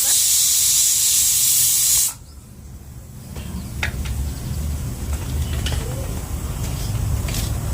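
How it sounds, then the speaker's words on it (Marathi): Loud, sharp hiss of steam escaping from a pressure cooker for about two seconds, then cutting off, leaving a low rumbling background with faint clinks. "कुकर थंड होऊ देणार आहे थोडीशी वाफ जाऊ देणार आहे"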